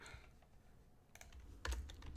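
A few sharp keystroke clicks on a computer keyboard, sparse and quiet, with a louder cluster near the end.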